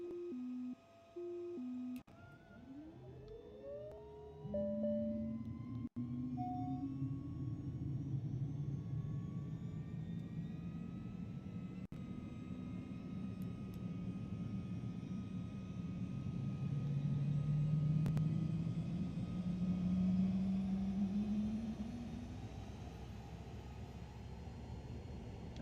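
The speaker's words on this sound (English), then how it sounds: "let's go ahead and fire up this engine" A Cirrus SF50 Vision Jet engine starts up in a flight simulator, opening with a few electronic beeps and clicks, then a rising turbine whine and steady roar that builds and swells, with no talk.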